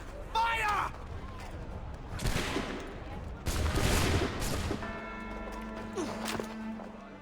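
A ragged musket volley from a line of soldiers on command in Assassin's Creed III, with sharp overlapping bursts, clustered shots and a second crackling wave, mixed with game score and spoken dialogue.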